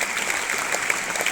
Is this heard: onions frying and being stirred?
no